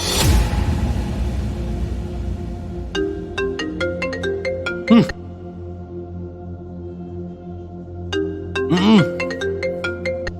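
A mobile phone ringtone plays from repeated calls, a bright melodic tune that sounds twice with a pause between, after a whooshing start, with no talk.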